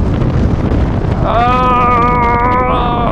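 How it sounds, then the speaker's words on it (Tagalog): Strong typhoon wind roars across a Zontes 400G motorcycle on a ride, a loud, constant rushing buffet with a high steady engine or whine tone rising in the second half. "Lakas na hangin!"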